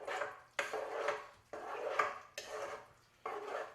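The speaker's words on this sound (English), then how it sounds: "What you want to go ahead and do is stir all the ingredients together." Kraft macaroni and cheese ingredients are stirred in a pot, with a series of scraping strokes, about five in a rhythmic pattern, each starting with a sharp scrape and then fading, heard close and quiet.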